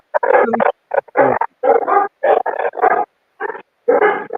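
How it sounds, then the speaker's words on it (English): Several dogs barking excitedly in rapid repeated bursts, loud and close, with short pauses between volleys. "Sorry, I couldn't hear you over the dogs acting amok."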